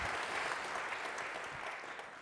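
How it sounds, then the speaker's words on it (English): A fairly quiet round of audience applause for panel speakers at a university talk event, sustained and even from start to finish. "That's another round of applause for our speakers."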